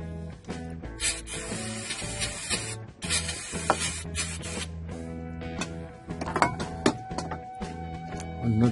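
Brake cleaner sprayed onto a Mercedes diesel fuel filter housing, coming as repeated hissing aerosol bursts with short pauses, close up, mixed with clicks and light rubbing of the parts.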